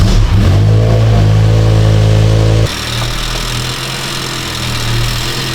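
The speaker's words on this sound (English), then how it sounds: "Noah is going to start the car on the lift, and I'm going to inspect for leaks." A BMW V10 starts up on a lift with a loud, close, harmonic-rich roar. It revs briefly, then drops to a rougher, steady idle.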